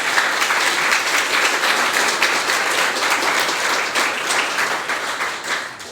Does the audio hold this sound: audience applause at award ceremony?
yes